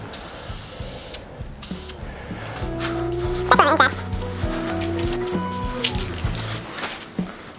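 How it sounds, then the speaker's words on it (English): Spray paint hisses onto the wooden edges of a floating wine bottle holder in short bursts, close and moderately loud, mixed with handling clicks and other shop noises. "So what I'm going to do is spray it on the edges."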